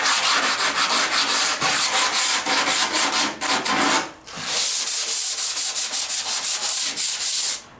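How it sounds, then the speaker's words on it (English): Hand sanding of a 1974 MG MGB passenger side car door, a loud rhythmic rasping scrub with quick back-and-forth strokes, a short pause in the middle, then steady sanding again, with no talking. "you just watch me sand"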